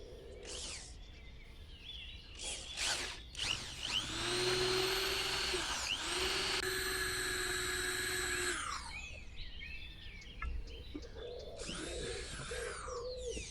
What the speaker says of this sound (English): So we're going to get the second drill bit in